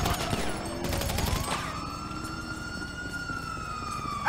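In the video game GTA 5, an ambulance siren wails during a raid, a rising then steady whining tone over background gunfire and game noise, clear and fairly close.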